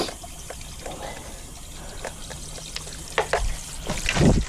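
Water trickles and gurgles out of inground swimming pool plumbing after the drain plugs are pulled, a continuous close splashing flow with a few sharper knocks and a louder gush near the end.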